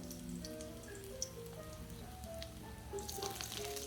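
Ginger and garlic frying in a little oil for gobi manchurian, a steady soft sizzle with light crackling pops throughout, close and even, with no talking.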